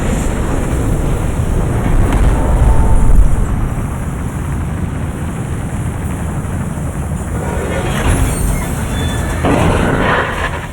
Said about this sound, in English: Engines firing.